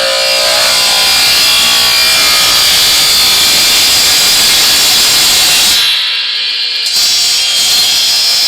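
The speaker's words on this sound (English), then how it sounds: "So now, let's cut some 3-inch strips." Power saw cutting a blue plastic barrel into 3-inch strips, a loud, close, continuous cutting whine and rasp that drops off briefly near the end before resuming.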